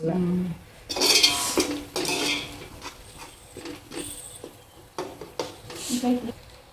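Ground coriander and garam masala stirred into a metal pot for egg biryani, with loud clanks and scrapes of a spoon against the pot that come in uneven bursts, and someone talking between them.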